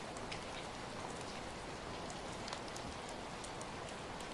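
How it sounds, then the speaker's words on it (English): Gentle rain falls steadily through a pine forest, a dense even hiss of drops on branches and ground, with no voices. "Only the sound of gentle rain and the whisper of the wind through the pine trees remain to guide your way."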